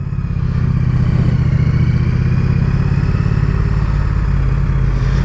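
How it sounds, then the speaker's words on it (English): A 2017 Triumph Street Cup motorcycle engine runs steadily with a deep, throbbing low rumble and slight mechanical clatter, close and loud, with no voices. "The engine just sounds amazing."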